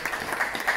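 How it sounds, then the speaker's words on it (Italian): Applause from an audience welcoming a speaker at the launch of an Italian professional organisation, a steady soft patter of clapping at moderate distance with no talk over it. "lo accogliamo anche con un applauso"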